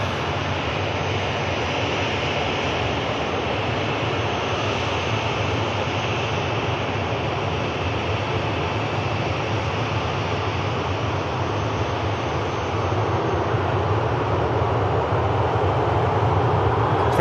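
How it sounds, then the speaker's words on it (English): A Turkish Airlines A321neo arriving at Manchester Airport from Istanbul, a broad continuous jet roar that holds steady and swells slightly toward the end, with no voices. "Next aircraft to arrive is a Turkish"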